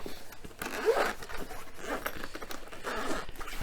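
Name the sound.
zipper on massage gun carrying case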